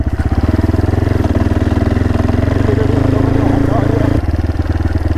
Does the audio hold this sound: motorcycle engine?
yes